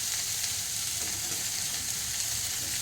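Eggplant and potato pieces frying in hot oil in a pan for a vendi recipe, giving a steady, close, loud sizzle that holds level throughout with no talking.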